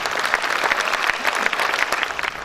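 Audience applause at a Hindi poetry gathering held at an Indian company venue, steady crowd clapping, with individual claps poking through, continuing evenly throughout.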